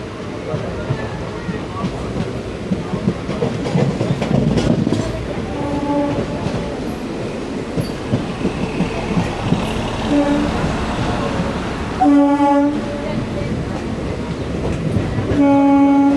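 A passenger train pulling into Palakkad Junction, heard from inside a second-class unreserved coach: steady rolling rumble and clickety-clack over the rails, with repeated horn blasts toward the end.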